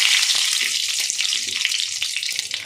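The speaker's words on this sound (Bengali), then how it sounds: "এবার আমি শুকনো লঙ্কা আর একটা তেজপাতা দিলাম" Dried red chilli and a bay leaf hit hot oil in a home kitchen, giving a loud, steady crackling sizzle with faint stirring clicks underneath, close and continuous throughout.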